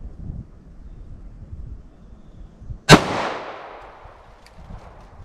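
A single sharp, loud gunshot from a 9mm pistol with a short 3.2-inch barrel, fired outdoors. It cracks once and then rings out in a long fading echo over a light background of wind noise.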